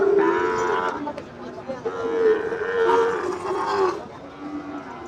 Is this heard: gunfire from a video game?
no